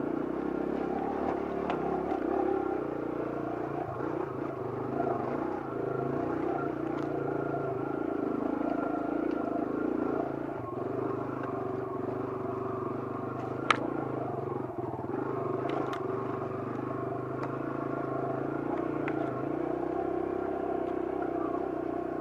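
Kawasaki KLX140 dirt bike climbing a steep trail, its engine a continuous moderately loud drone with shifting pitch throughout, with faint rustle and a brief click over the top.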